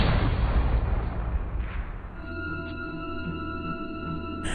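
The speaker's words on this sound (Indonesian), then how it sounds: "terdengar tembakan bahwa Mia berhasil menembak kepala Skinny." A burst of loud, crackling gunfire at the start, then it cuts into a steady droning tone with faint background rumble.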